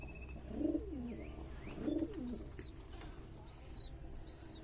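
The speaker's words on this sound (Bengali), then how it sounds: "আমার কাছে রেসার ও গিরিবাজ কবুতর আছে" Racer and Giribaz pigeons at a loft, two low throaty coos close by followed by a few faint higher chirps, quiet background and no talking.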